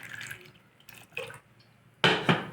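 Water is poured into a cooking pot of chopped vegetables for Kerala-style aviyal, giving short splashing bursts near the end after quieter drips and trickles; no one talks.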